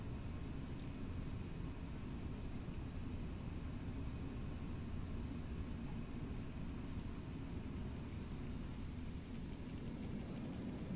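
Airliner touching down and rolling out at Kai Tak in a flight simulator game, a steady, loud low engine and wind rumble that fills the whole stretch without pause, no talking over it.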